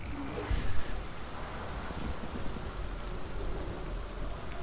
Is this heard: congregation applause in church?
no